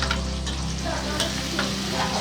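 Onion, green chilli and tomato sautéing in a pan for quail masala, a steady close sizzle and frying hiss with occasional stirring scrapes, continuous and unbroken, no voices.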